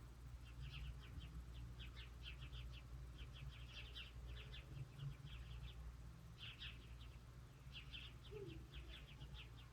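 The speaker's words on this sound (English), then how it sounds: "I feel like those birds are having a party again." Small birds chirp outdoors in quick repeated bursts of high tweets, faint and somewhat distant over a steady low background hum.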